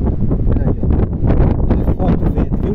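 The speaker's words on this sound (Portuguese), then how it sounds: "Muito forte o vento, viu? Muito forte." Strong, gusty wind at the top of a tall tower in the Seridó buffets the microphone with loud, continuous roaring rushes, and no voice is heard.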